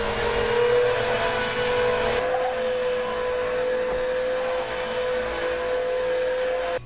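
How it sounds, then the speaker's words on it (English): A vacuum cleaner runs on a house floor with a continuous, even whine and airy hiss, holding steady throughout at close range. "Get everything up off your floor and vacuum your house."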